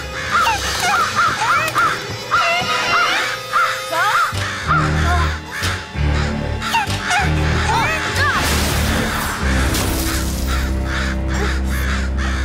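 Crows cawing as they circle overhead in an animated children's cartoon, harsh repeated caws over a busy music-and-effects background, loud and near throughout.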